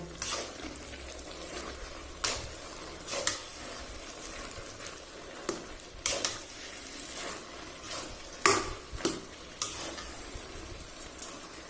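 Chana dal halwa is stirred in a pan: intermittent scraping and soft clanks of a spoon against the pan over a faint sizzle, with irregular strokes repeating over several seconds.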